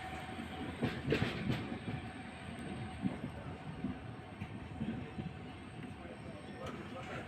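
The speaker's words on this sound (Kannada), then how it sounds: "Yeshwanthpur railway station platform number ಮೂರಕ್ಕೆ ನಮ್ಮ ಟ್ರೈನ್ ಬರ್ತಿದೆ" The Mysuru-Shirdi Express pulls into platform three at Yesvantpur Junction railway station with a low, steady rumble and rhythmic wheel clatter, heard from a moderate distance over faint background voices.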